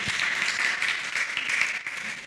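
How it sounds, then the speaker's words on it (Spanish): Church congregation applauding after a service performance, a dense, steady wash of clapping that fills the whole moment without a break. "Un aplauso al Señor."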